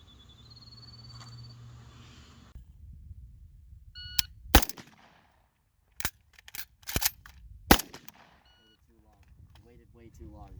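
An AK-pattern Century RAK-1 rifle is reloaded and fired in a drill: a faint tone and quiet metallic handling, then several sharp loud gunshots spaced in short bursts, with people speaking near the end.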